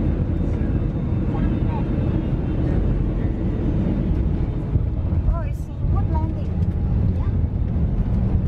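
Inside an airplane cabin during flight, a steady loud broadband engine roar fills the background, with a few faint voices and brief clicks over it.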